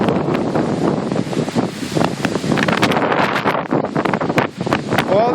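Strong hurricane wind gusting hard across the microphone outdoors, a loud rough roar with surging buffets and rustling debris, steady throughout the short stretch.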